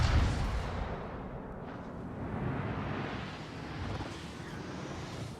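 Heavy naval guns boom from warships in a World of Warships flagship battle, a sustained low rumbling roar of cannon fire with rolling blasts that fills the whole stretch.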